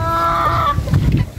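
Pet chickens bought at a market cluck in short, close bursts, with no talk over the sound and a rustling, shuffling layer underneath.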